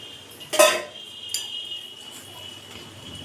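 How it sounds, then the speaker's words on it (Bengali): Besan and cornflour batter being mixed with water in a bowl for a Bengali vetki fish fry: two sharp utensil clinks against the bowl, then quiet scraping, close and clear. "একটু একটু করে জল মিশিয়ে ব্যাটারটা মা করছে"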